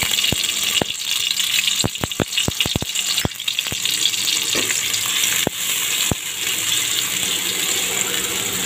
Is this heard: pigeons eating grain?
no